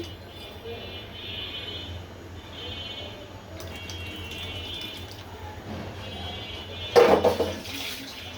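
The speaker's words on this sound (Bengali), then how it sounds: "আর একটু পানি দিয়ে দিচ্ছি।" Water poured into a cooking pot while stirring a spiced minced-meat bhuna, a short splashy pour rising near the end over a steady low kitchen hum.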